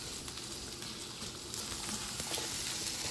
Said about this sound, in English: these are gonna basically simmer in the oil and the seasoning